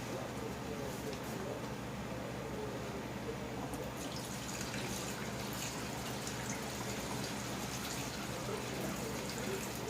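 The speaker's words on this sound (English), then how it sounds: "We'll take the cap off the gas tank and dump it out." Old gasoline is dumped from a Honda inverter generator's fuel tank through a funnel into an empty can, making a steady, close trickling pour that runs unbroken throughout.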